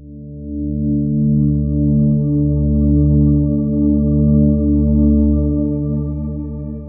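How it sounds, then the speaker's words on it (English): A sustained synth chord from Arturia Pigments swells and rings for several seconds, wrapped in a lush, shimmering shimmer reverb with faint high octave overtones blooming above it. "Now, a shimmer reverb sounds like this."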